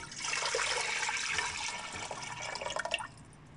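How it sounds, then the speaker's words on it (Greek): Water pours steadily into a wide cooking pot for syrup, a close splashing stream that thins out and ends with a few trickles. "Σε μία φαρδιά κατσαρόλα ρίχνω το νερό"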